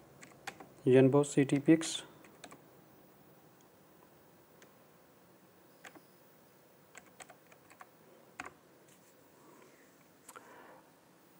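Typing a search into Google on a computer keyboard: a short quick flurry of key clicks, then sparse single taps spread out, with someone speaking briefly near the start.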